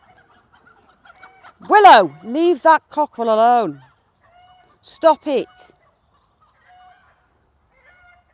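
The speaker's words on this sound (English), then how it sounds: "leave that cockerel alone" Fowl call out nearby: a few loud, harsh honking and clucking bursts in two clusters, with quiet gaps between them, while a person briefly speaks.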